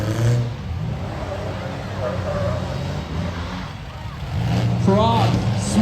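A demolition derby car engine at a total destruction derby labours and revs as the driver tries to restart the smoking machine, loud and rumbling throughout beneath an announcer's running commentary.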